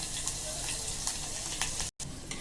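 Mustard seeds, curry leaves and chopped green chili sizzling in hot oil, a dense continuous frying hiss with faint crackles, close and steady, briefly cutting out near the end.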